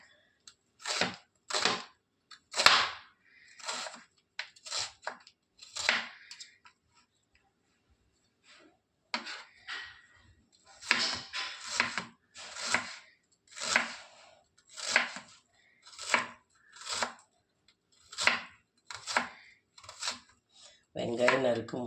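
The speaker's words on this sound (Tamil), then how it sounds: "வெங்காயம் நறுக்கும்போது ரொம்ப கவனமாக வெங்காயம் நறுக்கணும்." Knife chopping onion on a cutting board in a home kitchen: sharp, close, irregular taps in short bursts with a pause midway, then a steadier run of cuts.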